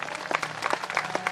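Audience applause for the musicians at a Shrimad Bhagwat Katha religious gathering in Harda, a dense patter of hand claps at moderate loudness, fairly close.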